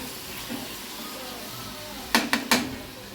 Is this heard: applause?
no